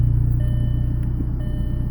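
A VW MK4 car idles steadily nearby, with a loud, even low-pitched rumble and a regular pulsing throb throughout, with no voices.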